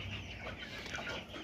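Chickens recovering from disease on a poultry farm cluck softly together, faint and brief, with no one speaking.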